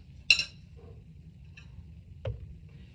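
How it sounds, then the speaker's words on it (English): A spoon stirs eggplant pieces through a yogurt mixture in a bowl, giving two light, separate clinks about two seconds apart over a quiet background. "You can just grab a spoon and stir it around like this"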